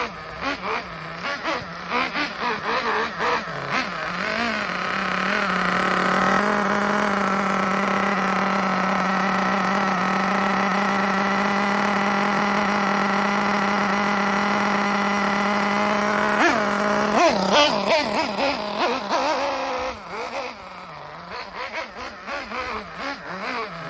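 A Hobao cage buggy's small nitro engine revs steadily at a high, buzzing pitch during low-speed needle tuning, holding a sustained whine for about fifteen seconds before dropping back to a rougher idle.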